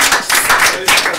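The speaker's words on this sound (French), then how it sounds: "Je voudrais vraiment, avec vous, qu'on puisse les applaudir" Audience applause at the closing of an agricultural trade fair and competition final, a short burst of dense clapping with voices mixed in.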